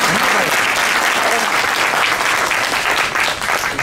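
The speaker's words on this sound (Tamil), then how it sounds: "அகத்தியர் கலைமன்றத்துக்கு ஒரு கைத்தட்டு" Sustained, loud audience applause at a Tamil pattimandram debate event, a dense wash of many hands clapping together without pause.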